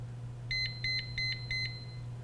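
An Amprobe RLD1 refrigerant leak detector, checking along an air conditioner drain line, sounds a warning of four evenly spaced electronic beeps over a steady low hum, clear and close.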